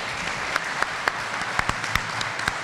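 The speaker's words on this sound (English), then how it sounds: "Please give them a round of applause" An audience applauds a discussion panel on relations between the US, China and Russia, with steady, fairly soft, dense clapping and a few sharper individual claps standing out.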